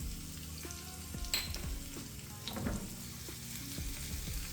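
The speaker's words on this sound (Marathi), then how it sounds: "आपण आता जिरे टाकू. जिरे तडतडले का लसूण टाकू." Cumin seeds crackle and sizzle in hot oil while a dal palak tadka is being made. The frying is close and steady, with scattered pops and a few light utensil scrapes.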